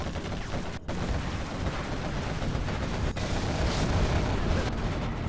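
A Scud missile launches amid a battle in the strategy game Command & Conquer Generals. A dense, continuous rumble of explosions and gunfire runs throughout, with a couple of momentary dropouts and a few sharper blasts.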